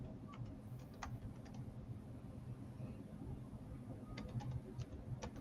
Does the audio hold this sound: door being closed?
no